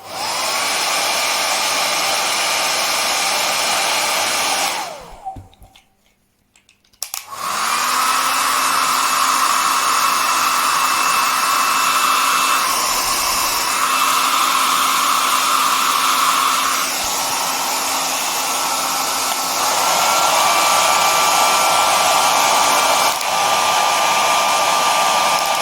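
A Philips Essential Care BHC010 1200W hair dryer runs at full power with a loud, steady whirring blow. It cuts out briefly near the start, then restarts and runs continuously.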